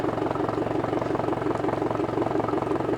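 A 2021 Suzuki DF200 200hp outboard boat motor with a stainless prop idles in neutral, a steady close rumble with an even pulsing throb that holds unchanged throughout.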